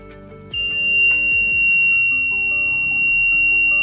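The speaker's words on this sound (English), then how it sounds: "you will hear a beep sound." A small BC547 transistor and LDR light-sensor circuit sets off its buzzer, which snaps on abruptly and holds a loud, steady electronic beep tone close by until the end.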